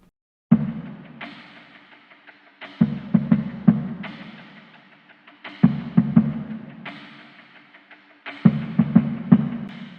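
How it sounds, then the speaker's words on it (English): A soft drum loop in a remix repeats four times, each bar opening with a low thump followed by lighter hits and shaker-like hiss, moderately quiet with brief silences between bars. "a little drum loop that I found that sounds like this"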